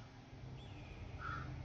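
A bird cawing in the 99 Rooms game, a single faint drawn-out call followed by a brighter short caw over a low steady background hum.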